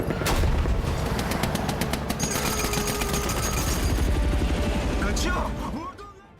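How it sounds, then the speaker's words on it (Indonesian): Dense bursts of gunfire crackle rapidly and loudly for several seconds during a shootout with a helicopter, with a mechanical whir beneath, then cut off abruptly. "Duel tembak ini akhirnya dimenangkan Baran dan helikopter melarikan diri"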